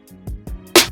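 A short, sharp slap-like snare drum sample for a hard sampled trap beat rings out among a few soft plucked notes, closing on one loud crack.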